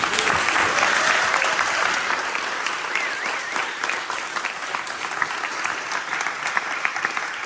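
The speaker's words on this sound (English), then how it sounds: "maybe one more round of applause for all of our graduates" Audience at a graduation ceremony giving a sustained round of applause for the graduates, dense and steady clapping from many hands filling the room, with faint voices mixed in.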